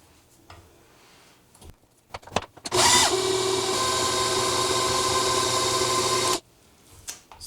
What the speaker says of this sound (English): we're going to blend that together with the wet ingredients and let that incorporate into the wet ingredients